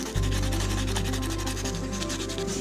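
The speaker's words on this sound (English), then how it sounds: "I'm going to hit it with some 100 grit and then later some 150" Sandpaper rubs briskly over a plastic cap, 100 then 150 grit, a close, continuous gritty scraping with a quick repeating back-and-forth rhythm and no talking.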